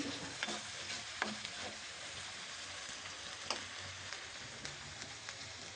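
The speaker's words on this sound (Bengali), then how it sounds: "এখন পেঁয়াজ আর আদা রসুনটা একটু কষিয়ে নিচ্ছি।" Onion, ginger and garlic fry in a pan with a steady broadband sizzle, punctuated by sharp scrapes and clicks from a ladle stirring at irregular intervals, all without speech.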